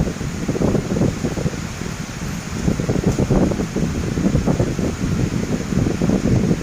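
Steady rushing wind noise buffeting the microphone, continuous and fairly loud, with no voices.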